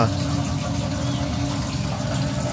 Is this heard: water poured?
yes